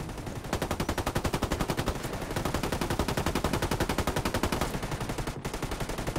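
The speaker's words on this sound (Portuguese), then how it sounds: "Estão atirando." Sustained automatic rifle fire in Ghost Recon Wildlands, a fast regular stream of loud close shots running almost without pause, with one brief cut near the end.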